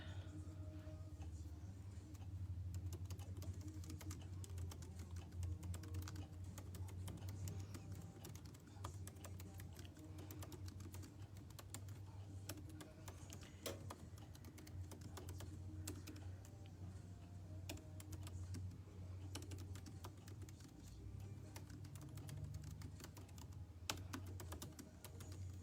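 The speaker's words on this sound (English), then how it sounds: "I'm trying to type and it's on my desk." Typing on a computer keyboard set on a desk: steady, faint, rapid key clicks continue throughout against a low background hum.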